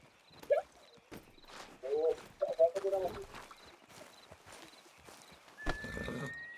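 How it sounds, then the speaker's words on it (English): In the video game Red Dead Redemption 2, horse hooves clip-clop at a walking pace over a steady outdoor background, along with a short whinny, while voices talk over them. "How's that horse treating you?"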